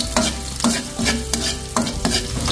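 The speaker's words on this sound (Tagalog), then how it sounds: "Mag-gisa na po tayo, magsarsyado tayo ngayon." Garlic and onion sauté in a pan as the base for fish sarsiado, making a close, loud sizzle broken by rhythmic scraping spatula strokes about every half second, with no voices.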